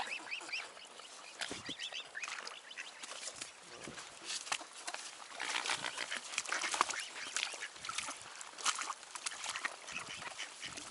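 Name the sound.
ducks quacking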